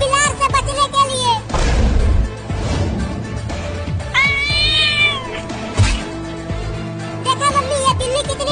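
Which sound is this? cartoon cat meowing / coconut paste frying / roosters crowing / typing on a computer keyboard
cartoon cat meowing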